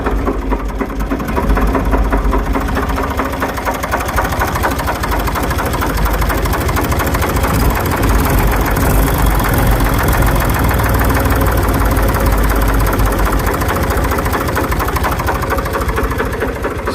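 A small double dumper engine idles loudly and close by, a rough, fast, even chugging that runs on steadily with no voices over it.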